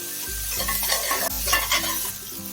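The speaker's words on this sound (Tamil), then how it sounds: "தக்காளி நல்லா வதங்கிடுச்சு" Tomatoes sautéing in a hot pan for an egg curry, loud close sizzling broken by rhythmic scraping strokes of a stirring spoon against the pan.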